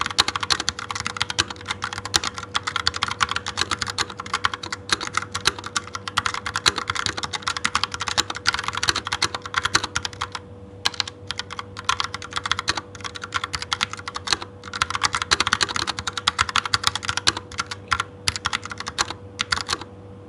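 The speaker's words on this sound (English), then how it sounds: "So let's just see the typing experience." Steady, rapid typing on a computer keyboard with a clicky, typewriter-like sound, close and continuous for about twenty seconds with one short pause midway and no talking.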